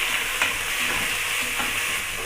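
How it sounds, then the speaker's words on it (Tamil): Cashews and long-sliced onions sautéing in a pan for prawn biryani, giving a steady close sizzle with a few soft stirring scrapes and no voices. "அதையும் சேர்த்துப்போம் சேர்த்துட்டு நல்லா வதக்கிப்போம்"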